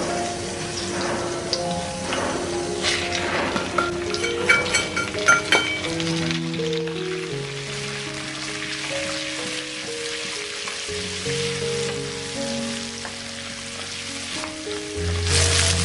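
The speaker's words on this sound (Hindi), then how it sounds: "अब ये मसाले मैं तेल में डाल दूंगी।" Masala spices with chilli and garam masala going into hot oil for a mackerel fish curry, a steady sizzle with clinks of a spoon, plus a few hums and tones over it, with no talking.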